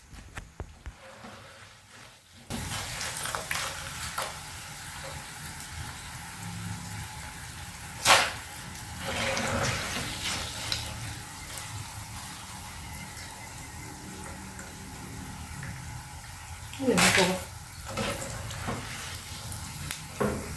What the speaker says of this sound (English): So at this moment, we are set to remove our plantain chips from the hot oil.